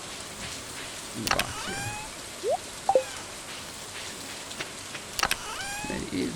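Rain in the video game Stardew Valley forms a soft, steady hiss across the whole stretch. Brief game chimes and effects sound over it, and a voice speaks briefly.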